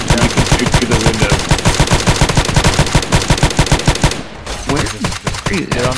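Rapid automatic gunfire in a video game, firing through a window in a power station setting: loud, close, sustained bursts of evenly spaced shots that break off near the end, followed by a few scattered shots and clatter.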